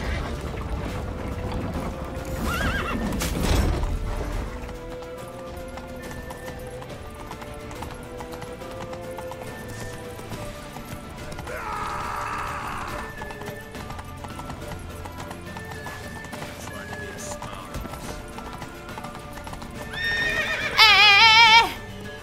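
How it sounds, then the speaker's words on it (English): A horse in a video game neighs and its hooves clip-clop steadily over continuous game music, with a louder whinny near the start and another burst at the end. "Grab a horse to the temple!"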